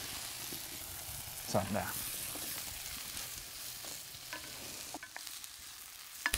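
Mushrooms and onions frying in a hot pan, a steady soft sizzle with occasional stirring scrapes; someone speaks briefly over it.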